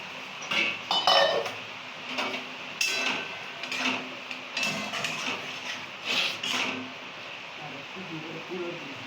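Fried potatoes go into a cooking pot with clanking metal pot and spoon knocks in irregular bursts, close and fairly loud, with occasional talk between them.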